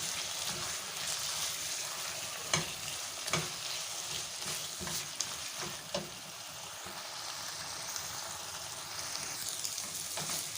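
Beef and onions frying and being stirred in a pan, a steady close sizzle under scattered scraping clacks from the spoon, with no talk.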